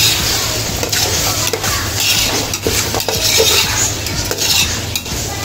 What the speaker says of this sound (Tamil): அதையும் சேர்த்து நல்லா கிண்டி வச்சுக்குவேன்.